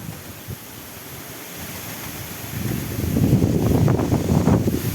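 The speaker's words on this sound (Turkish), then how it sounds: "Bayağı rüzgar bastırdı." Strong wind buffeting the microphone, growing louder and gustier toward the end, with a low roaring rush and no voices.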